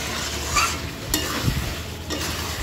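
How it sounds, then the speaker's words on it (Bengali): Chicken kosha stir-fried in a pan on a home gas stove, a steady sizzle under a few scraping stirs of the spatula, close and moderately loud with no talking. "এখানে দেখো চিকেন কষা চলছে"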